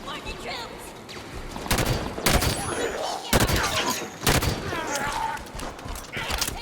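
Heavy bursts of gunfire in the video game Halo 5: Guardians, several loud separate volleys with shorter shots and whooshing effects between them, a busy battle mix.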